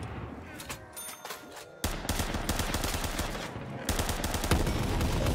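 Sustained machine gun fire in the Black Ops 3 Custom Zombies map Minecraft Sand Islands, with rapid bursts that start sparse and turn into a loud, dense stream of shots after the first couple of seconds.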